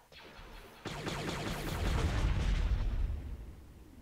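Missiles firing and exploding in the space strategy game Sins of a Solar Empire, heard as a sudden loud blast followed by a sustained, rumbling barrage of detonations that swells and then slowly fades.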